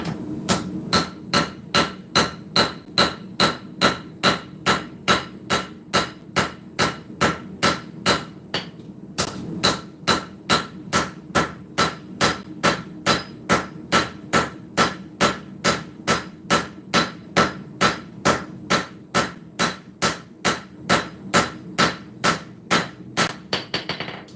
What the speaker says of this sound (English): round side of the rounding hammer